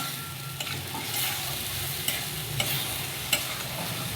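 Potatoes sautéing in oil for a milk-based egg curry, a dense, steady sizzle close up with occasional spoon scrapes and taps against the pan, continuous and loud throughout, with nobody speaking.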